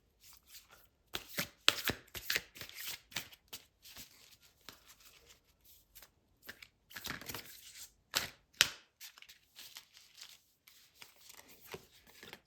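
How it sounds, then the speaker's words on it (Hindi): Tarot cards shuffled by hand up close, giving irregular bursts of crisp riffling and flicking with short pauses between, fairly quiet. "चलिए फिर से एक बार शफल कर लेती हूँ कार्ड्स को"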